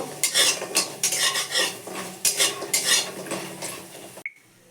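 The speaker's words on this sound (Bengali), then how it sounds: "তেল দিয়েছি বড়ি ভাজবো বলে বড়িগুলো ভালো করে তেলে ভেজে নেব" Lentil dumplings (bori) are tossed in frying oil with repeated loud metal spatula scrapes and clinks against the pan over a light sizzle, then a sudden cut to near silence at the end.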